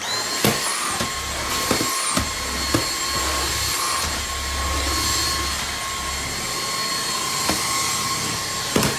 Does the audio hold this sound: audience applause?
no